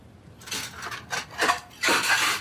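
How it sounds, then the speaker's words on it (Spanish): Metal cutlery and dishes clatter and scrape in several short bursts during a home meal with Black Sea tea, close and fairly loud, with no one speaking. "Toma, coge los cubiertos."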